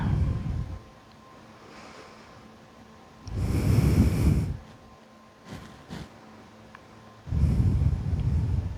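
Slow, deep breaths during a yin yoga deep stretch, heard as three long airy exhalations spaced a few seconds apart, close to the microphone, with quiet pauses between them and no speech.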